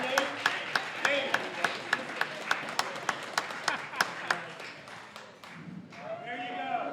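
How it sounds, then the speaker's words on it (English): At a community bike event, someone claps a steady run of about a dozen distinct hand claps over lively crowd chatter, the claps thinning out before talking takes over near the end. "Round of applause."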